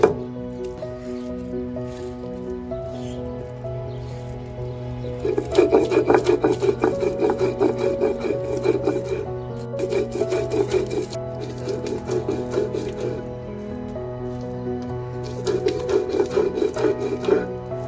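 Masala paste for Maharashtrian kalya masala potato sabji being ground to a fine texture in an electric mixer grinder, a steady whirring drone that surges louder in several bursts, with no talk.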